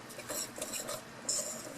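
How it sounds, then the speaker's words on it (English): A small whisk stirs water into powdered date sugar in a bowl, quick light metallic clinks and scrapes against the sides, close and fairly soft. "And I got a little whisk."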